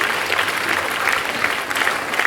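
An audience at a New Year speech claps steadily, a brief, dense burst of applause at an even level throughout.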